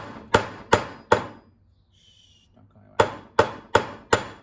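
Pieces for a vision board are hammered in sharp, loud strikes, three quick blows, a short pause, then four more in an even rhythm, close up with no talking.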